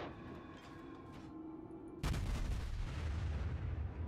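Warship main guns firing in the naval battle game World of Warships: a sudden loud, heavy blast at about the two-second mark gives way to sustained rumbling gunfire and booming that fills the rest of the stretch, with no talk.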